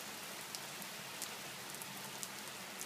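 Steady rain falls outdoors under blossoming trees, a dense even hiss with scattered faint drop ticks, close and continuous with no voices.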